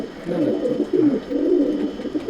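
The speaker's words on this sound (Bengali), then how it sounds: "কালদমা একটা নর পায়রা" Pigeons cooing in a loft, including a male Kaldama pigeon of the Tapan Saha bloodline, with soft, continuous overlapping coos held close and steady throughout.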